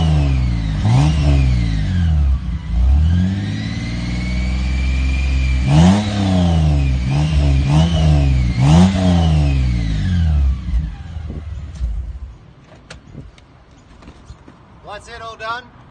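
A 4.5-litre six-cylinder petrol Toyota LandCruiser 100 Series with a new exhaust starts and revs repeatedly, rising and falling in pitch with a throaty exhaust note, then idles down and cuts off.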